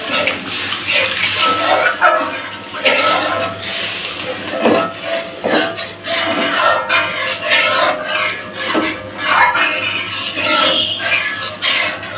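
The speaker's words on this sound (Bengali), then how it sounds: "এবারে ঝোল দিয়ে দেব।" Water is poured into a spiced cabbage curry in a pan, giving a steady rushing, rasping hiss with bubbling and stirring textures throughout.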